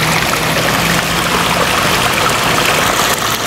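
Spring water trickling and splashing steadily out of rocks along a road in Pangasinan, a continuous close, fairly loud watery rush with no voices.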